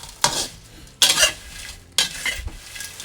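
Dried chili flakes dry-roasting in a pan over low heat with kaffir lime leaves, stirred in three distinct scraping bursts of dry rustling against the metal, with quieter rattling between strokes.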